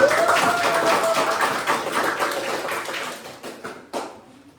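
Classroom audience clapping for a group after its presentation, a close burst of many hands that thins out toward the end, leaving a few last scattered claps.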